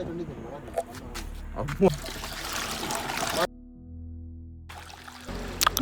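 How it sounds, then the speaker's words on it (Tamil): Water trickles and pours into a 20-litre pesticide sprayer tank, a fizzing stream that stops briefly partway, under someone speaking. "நாங்கள் இந்த டேங்குக்கு ஏற்ற மாதிரி அந்த தண்ணி விடணும்."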